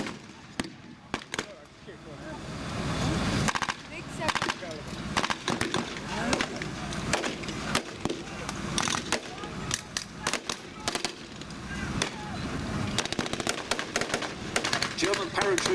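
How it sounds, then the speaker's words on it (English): A .50 caliber machine gun fires covering bursts at a WWII battle reenactment, with rapid cracking shots in irregular clusters and scattered distant reports. Voices talk over much of the firing. "The heavy caliber, 50 caliber here, gives covering fire from the infantry to move up behind the M18."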